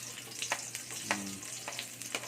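Onion and garlic frying in a pan for sarciado galunggong with saluyot, a quiet sizzle broken by several short scrapes and taps of a spoon stirring.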